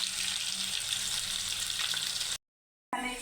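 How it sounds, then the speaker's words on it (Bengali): Fish frying in hot oil in a wok, a steady dense sizzle holding close and loud for about two seconds, then a brief silent cut before the crackling returns. "মাছগুলো এখন সুন্দরভাবে আমি ভেজে নেব"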